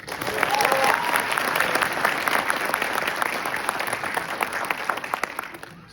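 Sustained applause fills a military training graduation ceremony honoring the Drill Sergeant Leader of the Cycle, a dense crowd clapping loudly and evenly throughout with a few sharper individual claps standing out.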